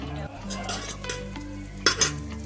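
Cumin seeds crackle in melted butter and ghee for pav bhaji, a close, lively sizzle of short bursts topped by two sharp pops near the end.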